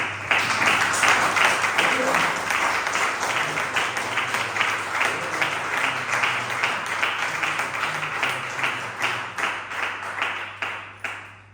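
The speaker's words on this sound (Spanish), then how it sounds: "Dale un fuerte aplauso a Cristo Jesús." A church congregation gives loud, sustained applause that gradually turns into rhythmic, unison clapping and thins out toward the end, with a low hum beneath.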